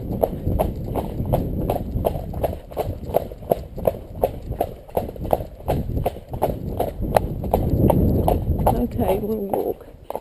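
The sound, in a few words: horse trotting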